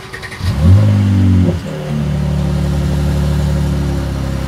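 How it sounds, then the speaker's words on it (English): 2019 Mercedes-AMG C43 Coupé 4MATIC with performance exhaust starting up: a loud starter whir, a sharp revving flare, a brief dip, then a steady, deep, rumbling idle, close and alone. "So the startup is quite loud."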